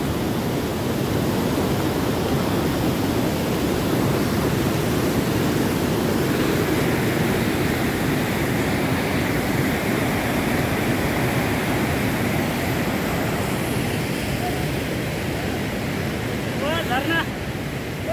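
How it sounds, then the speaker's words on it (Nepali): A waterfall pours beside a large river on the trail back from Khaptad to Achham in Nepal, giving a loud, steady, unbroken rush that fills the whole stretch. "नाइस झरना"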